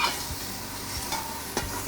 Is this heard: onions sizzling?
yes